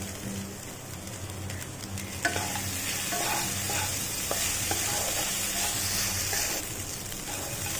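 Sabudana pulao, soaked tapioca pearls with vegetables, gets stirred in a hot pan, a steady sizzling fry with soft scraping and clinking of the spoon throughout, close and continuous, no talking.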